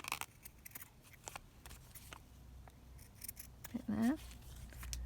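Scissors snipping through vellum and lace, a quick series of soft close cuts with faint rustling, and a voice briefly heard near the end.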